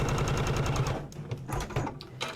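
A sewing machine runs steadily, stitching through a quilted receipt wallet made of crumb-quilted fabric and vinyl, a rapid close mechanical whirr that stops after about a second, followed by softer handling clatter.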